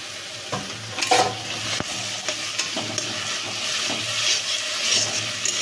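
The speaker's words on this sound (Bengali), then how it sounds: "তখন এই আদা, রসুন আর কাঁচা লঙ্কার পেস্টটা দিচ্ছি।" Ginger, garlic and green chilli paste sizzles in hot oil in a home kitchen pan, with a steady frying hiss broken by scraping stirs and spoon clinks close by, and no talk.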